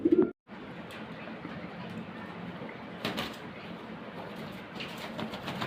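Fancy stager pigeons, a breeding pair, coo softly in a loft, with a low steady murmur of cooing and a brief sharp clatter partway through.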